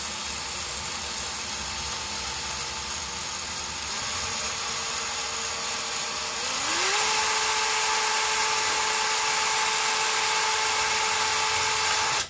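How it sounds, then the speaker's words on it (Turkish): A power drill bores through a wooden board for a home-made rope wall shelf: a loud, continuous whine that steps up in pitch partway through and then holds until it cuts off at the end. "tahtamızı havaya kaldırarak bu şekilde delme işlemine devam ediyoruz"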